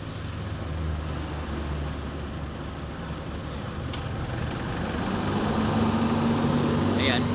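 A steady, loud mechanical hum of the air conditioner fan droning inside a Nissan NV350 van, continuous with a low rumble underneath and no talking.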